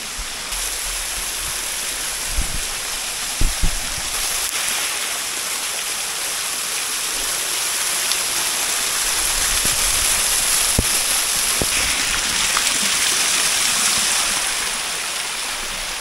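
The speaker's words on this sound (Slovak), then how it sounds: "Vodopád nado mňou." Waterfall in the Prosiecka valley gorge during a hike, a steady broadband rush of falling water close by, continuous throughout with a few faint knocks and footsteps over it.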